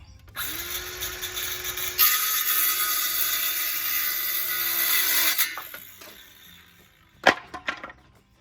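A pallet wood board is cut to 36 inches with a power saw, which whines up and bites through for about three seconds before spinning down, followed by a few clattering knocks of the wood.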